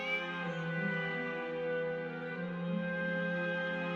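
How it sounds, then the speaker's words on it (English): A cat in the video game Genshin Impact gives a drawn-out, tonal meow that wavers and rises slightly, soft and close, heard alone without speech. "Cute little Farina looking at a cat."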